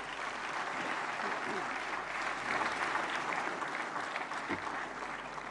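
Audience applause at the Dadasaheb Phalke Award ceremony, a steady, even wash of clapping from a large crowd held for several seconds at a moderate distance.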